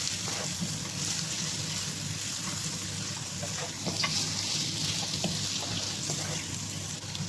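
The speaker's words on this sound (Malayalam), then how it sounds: "ഒരു 3 ചെറിയ സവാള അരിഞ്ഞത് ഇതിലോട്ട് ഇട്ട് കൊടുക്കണം. ഇത് നന്നായിട്ട് മൂപ്പിക്കണം. നന്നായിട്ട് വഴറ്റണം." Chopped small onions frying in hot oil in a pan for a tuna fish roast, a steady close sizzle with faint crackles and occasional clinks throughout.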